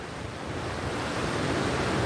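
Rough ocean surf breaking steadily on a fishing beach, with strong wind buffeting the microphone in a continuous, loud roar and no talking.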